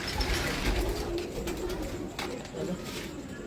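Pigeons coo softly and repeatedly nearby, low throaty calls with some rustling and a voice talking faintly underneath.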